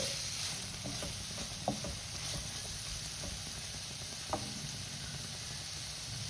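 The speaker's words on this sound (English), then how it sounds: "peri peri masala, fry it a little" Paneer fries with peri peri masala and black pepper in a pan, a steady close sizzle with stirring and two sharp utensil taps, no voices.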